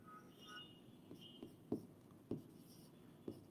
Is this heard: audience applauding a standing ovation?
no